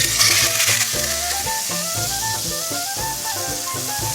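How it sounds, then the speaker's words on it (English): A pork collar steak sears in a hot pan, giving a loud, continuous sizzle and crackle with rhythmic scraping or stirring pulses throughout, no talking. "The pan is ready, it's nice and hot, so now we're gonna sear off the steak."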